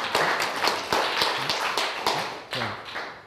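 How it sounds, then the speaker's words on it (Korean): At a lecture on reading the Analects, the audience gives itself a round of applause, a close, brisk stretch of many hands clapping in an uneven patter. "스스로에게 박수 한번 주시죠"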